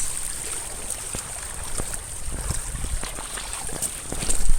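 Water flows steadily along a flooded path toward a bio farm, a continuous close rushing wash scattered with small splashing clicks, growing slightly louder at the end, with no voices.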